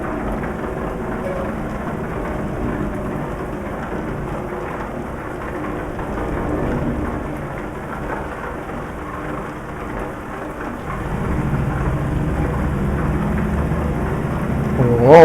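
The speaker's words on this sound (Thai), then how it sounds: "ฝนตกแรงอยู่นะครับ" Heavy rain pours steadily with low rumbling thunder in Euro Truck Simulator 2 while driving an Isuzu Giga truck, a dense continuous wash that swells louder toward the end.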